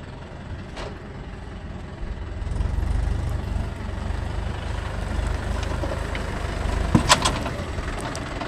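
A Mahindra 575 DI tractor fitted with cage wheels drives across a wet field, its engine a heavy, continuous low rumble that swells midway through, with a few sharp clanks and no talking.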